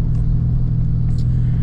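Steady, loud low rumble of a truck engine while driving, a continuous droning hum inside the cab with faint small rattles and no speech.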